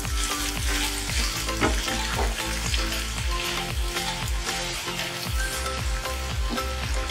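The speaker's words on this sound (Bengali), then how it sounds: "খুব ভালো করে এটা মিক্স করে দেব।" A spice mixture fries and sizzles steadily in a pan while being stirred, with repeated scraping strokes of the stirring utensil over a dense, continuous crackle, close and loud, with no talking.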